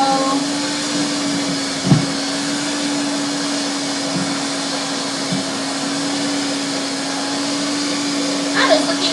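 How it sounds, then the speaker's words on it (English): An electric mixer whirs steadily at high speed through chocolate cake batter, a continuous motor hum with a few brief clunks of the beaters against the bowl, while someone talks faintly underneath. "And make the mixer higher."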